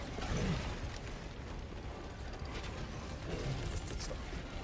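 A weapon reloads in the video game Helldivers 2, with quick mechanical clicks and clacks over a low rumble of battle, and no one speaking.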